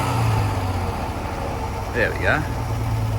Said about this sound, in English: Idle's a bit high, but it could be the choke on it